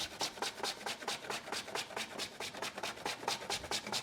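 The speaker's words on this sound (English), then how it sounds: "Grate some chocolate." Dark 70% chocolate being finely grated by hand, a steady rapid rasping of repeated close strokes with no voices.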